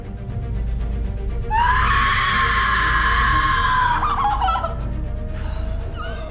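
A woman lets out a sustained, shrill horror-film scream lasting about two and a half seconds, loud over a rumbling background, then trails off into fainter cries.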